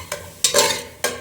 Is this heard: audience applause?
no